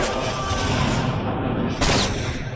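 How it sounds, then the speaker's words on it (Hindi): A gunshot in a South Indian action movie dubbed in Hindi lands as a loud, dense boom that swells twice over about two seconds within a noisy soundtrack. "कमिश्नर को क्रिमिनल नागेश्वर ने गोली मारी।"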